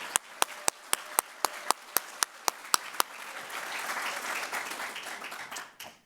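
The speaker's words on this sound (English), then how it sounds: "How about one more round of applause for Dr." At a university graduate commencement and hooding ceremony for a college of education, a dozen sharp, evenly spaced claps ring out before the whole audience breaks into sustained, softer applause that tapers off.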